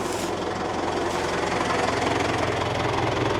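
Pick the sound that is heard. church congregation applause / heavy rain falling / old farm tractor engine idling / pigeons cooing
old farm tractor engine idling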